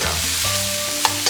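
Duck tongues stir-fried in a wok for a spicy Sichuan dish crackle and sizzle in hot oil, a steady bright hiss with a spatula scraping and a couple of sharp clicks near the end, no voices.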